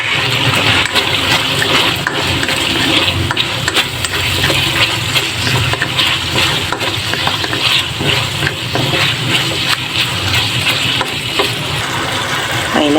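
Carrots and celery sauté in a pan with oyster sauce for pancit canton, a steady close sizzle with frequent scraping and stirring clatter from a utensil throughout.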